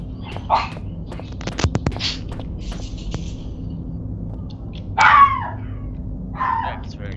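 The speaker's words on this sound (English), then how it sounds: "Demon dog scared the poop out of me" A dog, the demon dog from the horror game Penumbra, lets out several sharp barks and yips in scattered bursts, some loud and some fainter, while a person talks.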